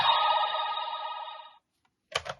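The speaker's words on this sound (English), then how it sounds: "when you push the handles in, which is used to eject the card, you get this sound." Kamen Rider Gotchard Driver toy belt giving an electronic chime-like ring for about a second and a half as its handles are pushed in, then a short silence and a brief clatter.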